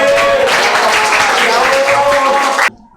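A classroom of students applauding together, a loud continuous patter of many hands with some voices underneath, cutting off abruptly near the end.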